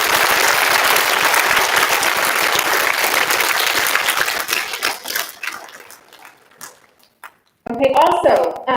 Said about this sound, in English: I would like to do another appropriate round of applause for our band and choir for all that they did